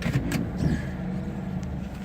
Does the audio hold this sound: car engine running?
yes